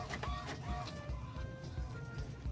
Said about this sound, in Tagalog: now, the printer is calibrating.